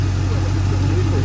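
A fresh crate engine in a 1977 Oldsmobile Cutlass Supreme idles with a steady, deep low rumble, close and continuous throughout.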